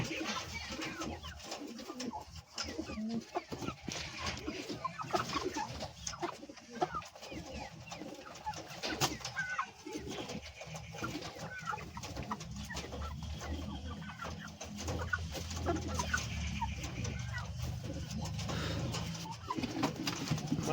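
Fancy brown lakkha pigeons restless in their loft, cooing and fluttering continuously at moderate distance, with chickens clucking nearby and faint voices.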